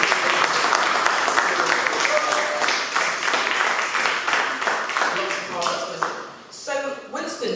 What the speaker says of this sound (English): going to get a massive round of applause